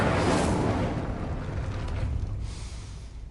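The Incendio fire spell is cast in Hogwarts Legacy, a single roaring whoosh of flame that bursts loudly and then fades into a soft rushing hiss.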